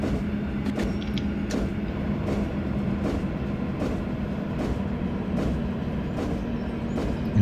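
Cab of a modernised EN57 electric multiple unit in the MaSzyna train simulator: a low rolling rumble under regular, evenly spaced clacks as the train runs, with the brakes engaging on the approach to a station.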